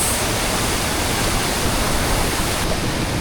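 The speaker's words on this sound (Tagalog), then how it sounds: "Grabe guys, ang lakas ng tubig." Rushing water of Aloha Falls, a waterfall on Mt. 387 in Nueva Ecija, makes a steady, loud, close roar of broadband white noise that holds constant throughout with no voices.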